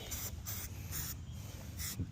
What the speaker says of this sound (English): Technically you want to be spray painting forward